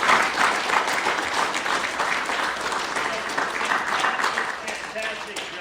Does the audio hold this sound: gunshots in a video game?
no